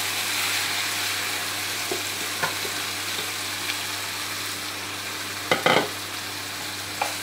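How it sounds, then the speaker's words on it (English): Marinated beef for beef lok lak frying in a pan, a constant close sizzle with a few clatters of a utensil against the pan and no voices. "So now I put my beef marinade in"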